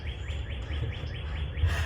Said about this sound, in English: Those birds are loud. I like them.